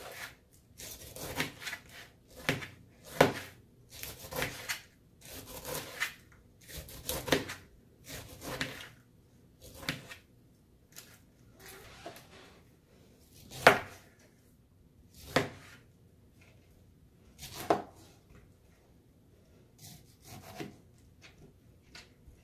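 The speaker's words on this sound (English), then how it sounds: "We're going to move into cutting our pineapple so we can start grilling our pineapples" A knife cuts through fresh pineapple on a cutting board for grilled pineapple tacos, giving a long run of close, rhythmic slicing and chopping strokes with rubbing sounds, some sharper than others, and no talking.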